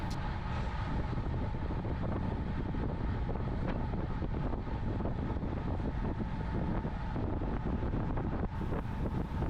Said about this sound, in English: It was really tough going into the headwind up this top section.